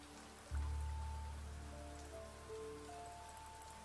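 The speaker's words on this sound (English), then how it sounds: "It's raining." Steady rain falls in the video game Niche, a soft continuous patter that sets in abruptly and holds at moderate level beneath low ambient tones and occasional faint musical notes, with no talking.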